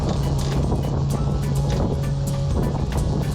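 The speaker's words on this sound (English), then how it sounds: "I could even hear the daggerboard singing." A homemade sailing dinghy planing fast in a fresh wind, its daggerboard humming a steady tone under loud, continuous water rush and spray close by.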